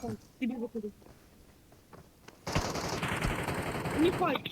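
Gunfire in a stealth radiation-looting video game: a dense, loud burst of rapid shots fills the back half, after short spoken bits and a laugh over quieter game noise.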